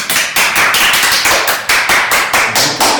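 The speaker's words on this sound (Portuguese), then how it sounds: "seu mestre mandou bater palmas." Steady hand clapping during a children's game, crisp bright claps in a regular, brisk rhythm, close and loud with no voices over them.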